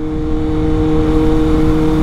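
Motorcycle exhaust drones loudly and steadily throughout a ride, with a constant engine hum and some rumble from the road.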